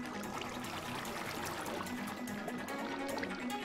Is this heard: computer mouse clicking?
no